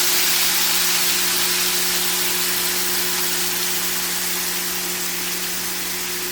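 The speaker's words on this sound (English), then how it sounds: "So, it's open, and we'll pour this sauce on there." Cilantro lime sauce for Paleo chicken is poured into a hot pan and hisses in a steady, broad sizzle. A constant low electrical hum runs underneath, and nobody speaks.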